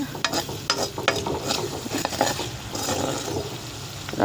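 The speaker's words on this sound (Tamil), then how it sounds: "நல்லா எண்ணெயில் பாருங்கள் அது வதங்குறது உங்களுக்கு தெரியுதா" Ingredients sautéing in oil on a low simmer for kara kulambu, a Tamil tamarind curry made with elephant foot yam, with soft steady sizzling broken by several clicking scrapes of a stirring spoon against the pan, close and alone.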